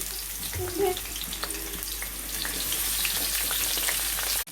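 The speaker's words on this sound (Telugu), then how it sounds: "ఆయిల్ హీట్ అయిన తర్వాత ఈ గోబీని ఇందులో వేసుకొని ముందు ఫ్రై చేసుకోవాలి" Small chopped cauliflower pieces fry in hot oil, a steady close sizzle that grows louder and denser toward the end, with a faint brief clink near the start and no talking.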